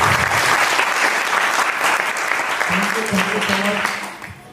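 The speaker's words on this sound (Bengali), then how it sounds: "আজকে এখানে উপস্থিত তাদের প্রত্যেকের জন্য আর আমার মা বাবার জন্য একটা করতালি হয়ে যাবে" Audience at a marketing plan presentation breaks into loud, sustained applause, steady clapping throughout that fades near the end, with a low voice or hum rising underneath partway through.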